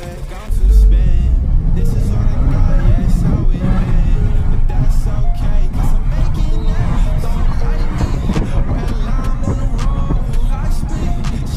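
A tuned stage 2 sleeper car accelerates hard with a loud, continuous engine roar and road rumble heard from inside the cabin. The engine note rises through the gears, and a voice talks faintly underneath.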